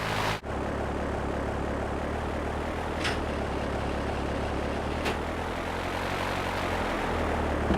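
The Dodo plane in GTA3 gives a steady, loud propeller engine drone that runs unbroken throughout, with a brief dip near the start and a couple of faint clicks layered on top.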